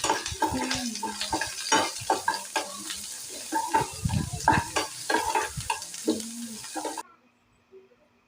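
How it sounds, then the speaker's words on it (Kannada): Onion and urad dal fry as a tempering in a pan, with loud sizzling and repeated clatter of a spoon stirring against metal, then the sound cuts off to near silence for the final second. "ಈರುಳ್ಳಿ ಚೆನ್ನಾಗಿ ಕೆಂಪಕ್ಕೆ ಫ್ರೈ ಆಗೋರ್ಗು ಒಗ್ಗರಣೆ ಮಾಡಿಕೊಂಡ್ರೆ ತಂಬುಳಿ ತುಂಬ ಚೆನ್ನಾಗಾಗತ್ತೆ"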